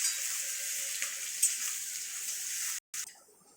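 Onions frying in oil with panch phoron for matar ghugni, a steady soft sizzle with faint crackles, fairly quiet and close, cut by a brief gap near the end.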